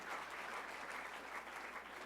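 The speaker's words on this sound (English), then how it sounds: "One more big round of applause." Sustained audience applause at a junior national cross-country ski championship freestyle relay ceremony in Lake Placid, a dense steady clatter of many hands at moderate level with no pause.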